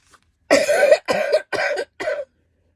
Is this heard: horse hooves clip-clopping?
no